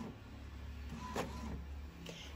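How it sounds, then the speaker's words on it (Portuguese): Home printer feeding and printing a card that tends to pull crooked, a soft continuous mechanical whir with a few faint clicks and ticks, heard alone at low volume. "Gente, o papel sempre entorta aqui na impressora."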